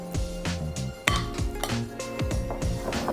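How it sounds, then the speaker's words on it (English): Pork shoulder is tossed in char siu marinade in a kitchen bowl, giving a run of rhythmic clinks and knocks with soft wet shuffling in between. "we're going to give it a toss so that everything is evenly coated in our marinade"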